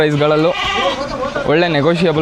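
Sheep and goats at a large livestock market in Karnataka bleat loudly and repeatedly nearby, several wavering calls overlapping one another in quick succession.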